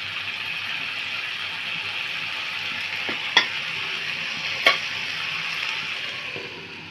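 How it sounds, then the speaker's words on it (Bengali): Vegetables for a small-fish chochchori frying in a pan, a steady close sizzle with two sharp clinks of a spatula or lid partway through, no speech. "ঢাকনাটি খুলে আমি তরকারিটা আবার নেড়ে চেড়ে দেব"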